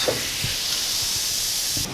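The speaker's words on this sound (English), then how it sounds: "The lid closes all the way, so you see a lot of steam coming off" Steam hisses steadily from a lidded pancake machine as a pancake cooks, a loud continuous sizzle with faint low thumps beneath, cutting off abruptly near the end.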